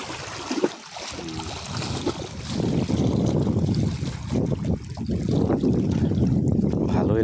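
A swollen river churns after a day of rain, its rough water rushing steadily in the late afternoon while gusts of wind buffet the microphone, a continuous, close, fairly loud roar that fills the whole stretch without speech.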